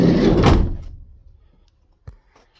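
A Vauxhall Vivaro sliding side door is pushed shut, giving one loud close that trails away into quiet. A second, much softer knock follows a moment later.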